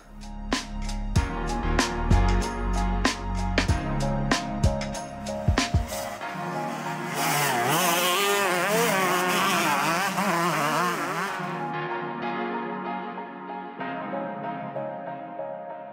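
A KTM SX125 125cc motocross bike engine revs and shifts loudly nearby, with sharp bursts and a sustained high-pitched whine, then fades slightly as it pulls away.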